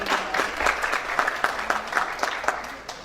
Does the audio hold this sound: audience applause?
yes